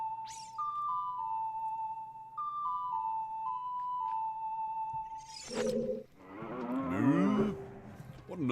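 Cow mooing in the Nintendo 64 game The Legend of Zelda: Ocarina of Time Master Quest, a short low moo arriving after a stretch of steady game music tones, followed by a longer warbling vocal cry.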